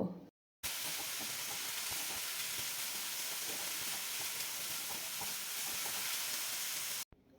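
Spice paste of chili and cumin powder with a little water sizzling in a pan, a steady close hiss that runs almost unbroken after a brief gap at the start.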